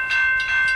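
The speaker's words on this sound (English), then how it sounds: "there's a train on this on Woodruff Road" A stopped coal train sits on the railway at Woodruff Road, giving a steady close tonal ring with three rhythmic swells in loudness and no voices over it.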